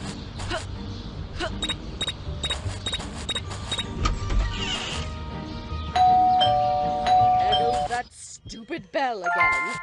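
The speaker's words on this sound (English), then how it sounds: "Bell again." Doorbell chiming inside the video game Scary Teacher 3D, ringing over busy game music and effects, with a clear tonal chime near the end.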